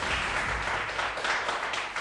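Studio audience applause on a Turkish quiz show, a dense, steady wash of clapping throughout.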